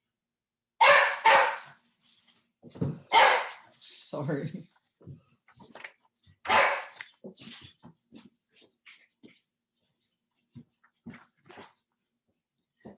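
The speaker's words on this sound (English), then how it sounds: "Sorry for the dog interruption." A dog barks loudly indoors in sharp repeated bursts with a few whimpering yips between, interrupting a recorded lecture, while a voice speaks briefly amid the barking.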